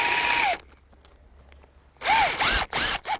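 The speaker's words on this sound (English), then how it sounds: "Pre-drilled my hole there with the self-tapping screw" A power drill drives a self-tapping screw into a greenhouse strap, giving a whining burst, a pause, then several short rising and falling bursts as the screw seats, close and loud.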